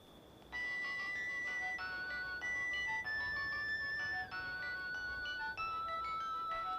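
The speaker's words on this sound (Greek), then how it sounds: "Το κινητό σου είναι αυτό?" A mobile phone rings with a repeating electronic melody of bright stepped tones, starting abruptly and playing steadily and fairly loud, with no talk over it.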